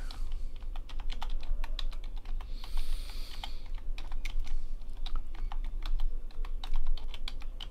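Steady computer-keyboard typing during a Klavaro typing practice session, a close, continuous stream of crisp key clicks with irregular rhythm and no voices.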